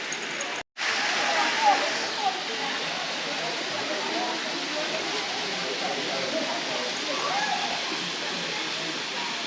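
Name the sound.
waterfall on the Gibb River Road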